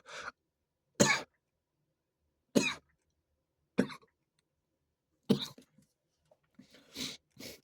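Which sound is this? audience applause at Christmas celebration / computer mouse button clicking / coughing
coughing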